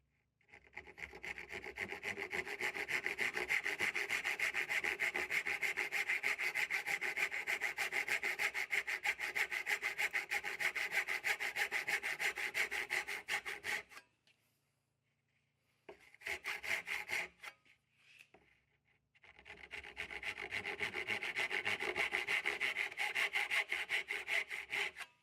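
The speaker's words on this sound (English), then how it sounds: "We'll use the coping saw, take out the waste just like we did on the pin boards" Coping saw rasping through the waste between hand-cut dovetails in a wooden board: a steady, close stream of fast back-and-forth strokes that breaks off, resumes briefly, pauses again, then continues, with no talk.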